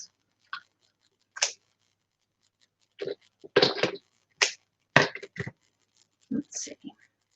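Scissors cutting paper pieces for bows in a papier-mâché pumpkin craft project, a series of short, crisp snips close by with quiet gaps between them.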